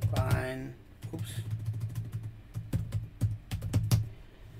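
Typing on a computer keyboard while recording an Excel macro, a run of close, crisp key taps at an uneven pace, with a voice heard briefly at the start.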